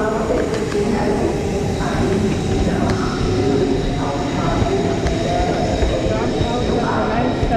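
A train rolls into a platform at Zurich Airport railway station, a loud, steady rumble of wheels and carriages, with voices audible in the background.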